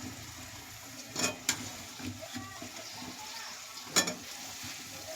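Potatoes going into a pan of frying Shankar fish, a soft, steady sizzle broken by a few sharp clinks and splashes as pieces drop in, fairly quiet throughout.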